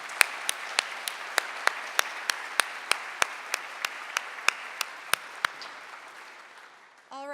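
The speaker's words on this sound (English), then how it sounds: "let's give both our speakers another round of applause" Audience applause for two speakers at a university panel, with a single nearby clapper's sharp, regular claps over a softer crowd patter that fades out, followed by a brief voice.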